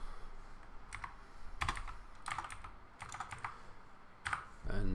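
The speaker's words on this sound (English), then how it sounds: "Let's just quickly type it in." Keys on a computer keyboard are tapped in short clustered bursts separated by brief pauses, close and fairly quiet, with no one speaking.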